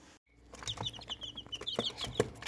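Hen clucking softly with newly hatched chicks peeping repeatedly in high, rapid chirps close by, a steady busy chatter without any talking.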